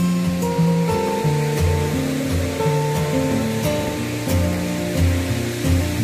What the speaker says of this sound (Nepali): ल मजाले आइरहेको छ झर्ना